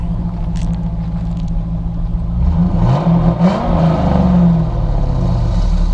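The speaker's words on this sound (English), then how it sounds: "Go ahead and rev it up a little bit." A 2002 Pontiac Trans Am engine idles with a deep rumble, then revs up and down a few times in loud, close throttle blips before settling back.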